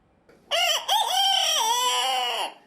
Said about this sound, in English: With super soft feathers and striking black skin, these are silky chickens